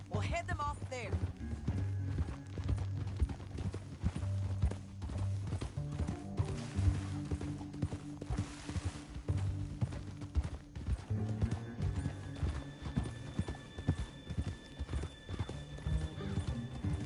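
Horse hooves clip-clop steadily on the ground in the Red Dead Redemption game, with occasional whinnies, layered under dialogue and a low music bed throughout.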